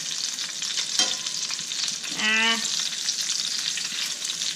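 Chicken katsu frying in hot oil gives a steady, dense sizzle with brief stirring or flipping bursts, close and continuous without talk.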